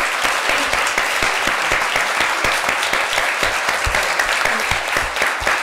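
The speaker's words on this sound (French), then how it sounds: "Une bonne main d'applaudissements pour ces bénévoles-là" Loud, sustained applause for volunteers at a community talk in Quebec, with many hands clapping close and steady, individual claps popping out of a dense crowd wash.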